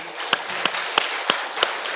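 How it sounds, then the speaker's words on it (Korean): A church congregation claps in unison at a worship service, five even, sharp claps on a steady beat about a third of a second apart. "우리는 하나님께 박수하시고 영광 돌리자."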